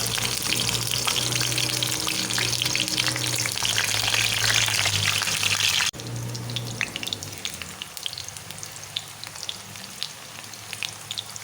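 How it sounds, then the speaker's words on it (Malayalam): Eggplant pieces frying in hot coconut oil make a loud, dense sizzle at close range, easing to a softer, sparser crackle partway through, with no talking. "വെളിച്ചെണ്ണ ചൂടായിട്ടുണ്ടെങ്കിൽ നമുക്കിനി ഈ വഴുതനങ്ങ ഒന്ന് വറുത്തെടുക്കാം."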